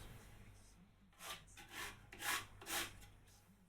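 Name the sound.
scrubbing dirt off an old mahogany wood piece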